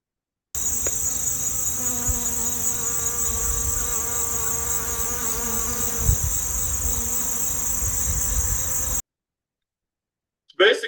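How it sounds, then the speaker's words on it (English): Many bees buzzing in a buckwheat cover crop in a home garden, a dense continuous hum with several droning tones, close and steady, then cut off abruptly near the end. "And you can actually hear them just buzzing away."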